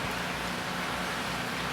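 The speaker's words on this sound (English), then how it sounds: "It's raining." Soft, steady hiss of rain from the outer bands of a tropical storm in Puerto Rico, an even wash of drops without breaks, fairly quiet and close.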